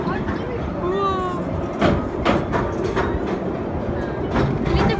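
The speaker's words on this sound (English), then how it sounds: "Ooh, that train though." A train rolls past on rails with a steady rumbling drone and a few sharp rhythmic clacks and squeals, fairly close, while voices talk over it.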